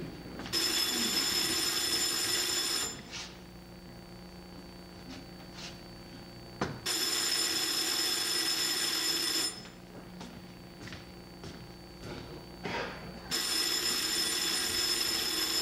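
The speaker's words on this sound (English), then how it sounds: "The phone's ringing." A telephone rings in long electronic bursts, three rings separated by pauses, with faint clicks and room noise in the gaps.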